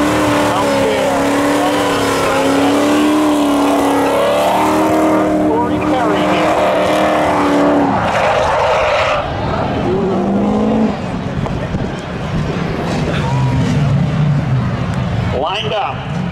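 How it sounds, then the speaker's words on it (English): A 1988 Ford Mustang drag racing at Seekonk Speedway during a Labor Day thrill show: a loud, close engine revs and climbs in pitch, then launches and roars away, with an announcer talking over it throughout. "Next up, gonna have that 1988 Ford Mustang."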